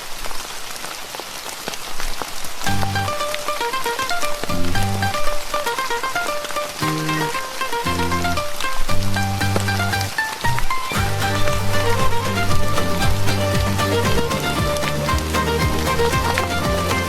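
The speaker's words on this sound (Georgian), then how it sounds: "წვიმა დაიწყო." Rain falls steadily on surfaces outdoors near a village, a continuous patter under a melodic music track that plays throughout.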